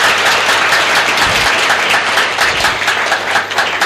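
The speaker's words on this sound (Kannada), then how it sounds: "ತಾವು ದಯವಿಟ್ಟು ಒಂದ್ಸರಿ ಜೋರಾಗಿ ಚಪ್ಪಾಳೆ ತಟ್ತೀರಾ ಅಂತ ನಾನು ತಮ್ಮಲ್ಲಿ ಕೇಳ್ಕೊತಾ ಇದ್ದೀನಿ." An auditorium audience at an evening anniversary program applauds loudly, a dense, continuous wash of many hands clapping that fills the whole stretch.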